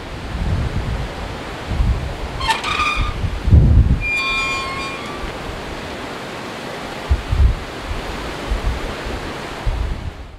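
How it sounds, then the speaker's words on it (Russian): Strong wind roars and buffets the microphone continuously on a small island in France, with low gusty rumbles and a few faint high tones cutting through. "очень сильный ветер"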